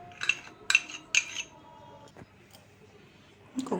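A spoon clinks sharply against a bowl while beating a mixture for a fruit cake, with three quick bright taps early on, then quieter scraping and one more knock at the end.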